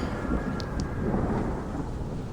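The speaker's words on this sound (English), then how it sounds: "there is a crash of lightning right next to your carts" A deep, rolling rumble of thunder fills the short stretch, broad and steady with no sharp crack, alongside a faint rain-like hiss and no voices.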